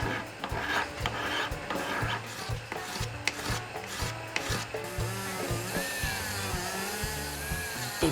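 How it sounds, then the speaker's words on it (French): Metal files and brushes rasp and rub in quick, steady strokes over a metal architecture-style ring being polished, close and dry, with a few louder scrapes and no voices. "Le polissage enfin avec une ribambelle de lime et de brosse."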